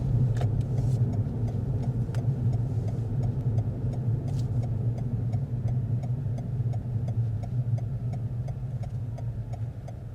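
Car idling with a steady low engine hum and a regular ticking indicator while pulling over on the left during a driving test, close and continuous, no one talking.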